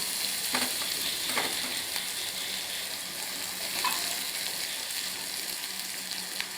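Onions fry until golden in a pan for a spinach gravy, a soft, steady sizzle with a few light spatula knocks and stirring scrapes.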